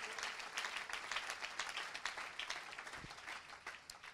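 A church congregation applauding, a steady wash of many hands clapping at a moderate distance, sustained throughout without a break.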